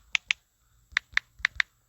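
Fingers tapping a web address into a phone touchscreen: six sharp, close clicks in uneven pairs and runs, with quiet gaps between and no talking.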